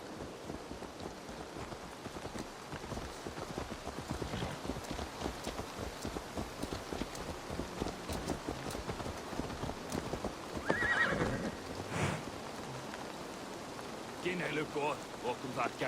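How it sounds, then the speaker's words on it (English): Hooves clip-clop steadily on the ground as a horse walks in Assassin's Creed Valhalla, with a whinny partway through, light rain in the background and faint game voices. "Let's return the horse."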